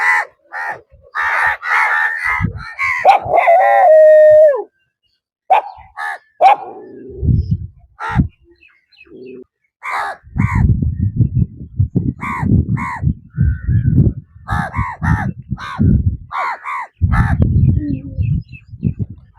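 Crows caw repeatedly and dogs bark in loud, overlapping bursts as they are fed scraps of food on a small island, the calls coming close and irregular across the whole stretch.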